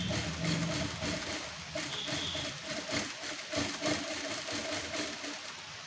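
Sewing machine running a double line of stitching on a blouse, with a steady, continuous mechanical whir and rapid needle clatter, fairly close and unbroken throughout.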